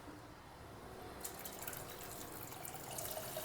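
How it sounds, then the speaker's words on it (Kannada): Water poured into a pot of rice for palau, a faint, soft trickle and splash that starts after a quiet second and keeps running steadily to the end. "ಅದಕ್ಕೆ ಇದರಲ್ಲಿ 2 ಲೋಟ ನೀರು ಸೇರಿಸ್ತಾ ಇದ್ದೀನಿ."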